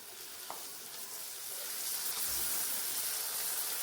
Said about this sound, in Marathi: मसाला झाला की आता आपण एक हा बारीक चिरलेला टमॅटो टाकून घेऊया